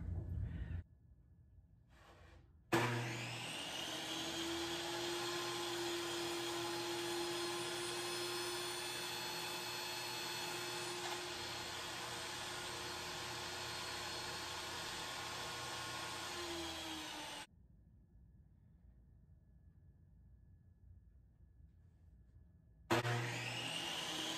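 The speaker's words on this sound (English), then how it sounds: "now we've switched over to the crosscut blade" A table saw fitted with a crosscut blade cuts a wooden piece for a simple three-string strumstick, a steady, faint whining hum lasting around fifteen seconds, with a shorter burst near the end.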